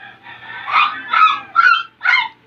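A voice imitates a pig with four short, nasal grunting squeals in a row, close and fairly loud against a quiet background.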